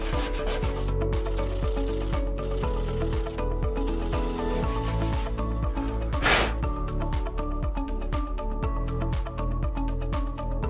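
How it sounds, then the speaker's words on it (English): A popsicle stick is rubbed and tapered against sandpaper, giving a steady, close scratchy rasping that continues for the whole stretch under constant background music. "I'm going to use sandpaper and taper it down to that shape"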